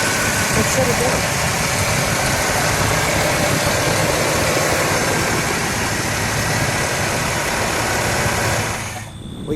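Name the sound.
1967 Pontiac GTO engine idling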